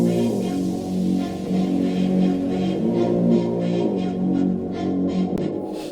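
Moog synth bass heard dry without reverb, a more defined sequence of repeating bass notes with a steady pulsing rhythm at moderate level, played alone.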